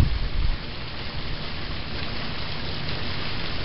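Steady, dense rain falling throughout, a loud continuous hiss with no other sounds.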